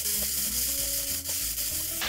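Eggplant, minced beef, chopped Cheongyang chili and onion sizzle in a hot pan as they are stir-fried, a steady close hiss with faint scraping stirs.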